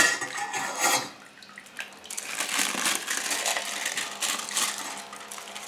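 Wet gluten dough is lifted out of a bowl of water, giving a brief splash followed by scattered dripping and squelchy handling sounds, close and fairly quiet with no talking.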